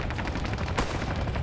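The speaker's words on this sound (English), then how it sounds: "we can hear some gunfire coming from just out here" Rapid bursts of gunfire in Arma 3, loud and sustained, with repeated sharp shots rattling close by and no talking.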